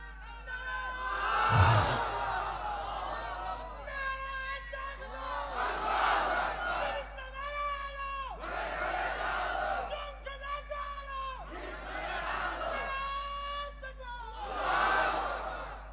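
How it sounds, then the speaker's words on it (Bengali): A large religious gathering at a Bangla waz shouts the Nara-e-Takbir chant in loud, rhythmic call-and-response waves, a lead voice answered by massed crowd shouts in five or six bursts, booming through a reverberant PA. "আপনারা নারায়ে তাকবীর এখানে একটু দেন।"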